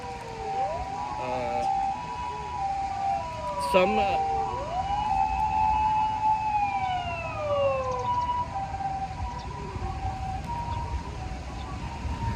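Wailing sirens rise and fall over traffic noise, several overlapping tones passing nearby with some voices mixed in.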